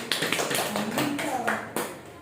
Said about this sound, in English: Clap hands for Chucky.